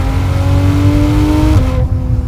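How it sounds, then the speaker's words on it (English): A 2016 Porsche 911 GT3 RS engine revs hard and loud up close, holding a high steady wail before the note drops sharply as it shifts and eases off. "This has got to be the best sounding car I've ever driven."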